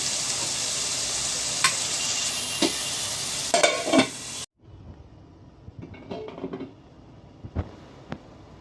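Village-style egg and dried fish curry sizzles loudly in a pan with a few stirring scrapes, then the lid goes on and the frying turns to a quieter, muffled hiss with occasional clinks.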